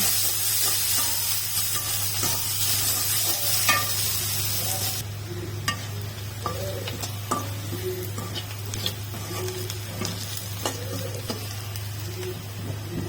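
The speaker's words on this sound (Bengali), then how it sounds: "পেঁয়াজ কুচি রসুন কুচি দিয়ে ভালো করে নিয়ে ব্রাউন করে ভেজে নেব" Chopped onion and garlic fry in oil in a pan for a chicken kala bhuna, a steady sizzle with a spatula stirring and scraping in irregular strokes, close and continuous over a low background hum.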